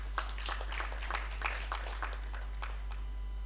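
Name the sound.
audience applause for a speaker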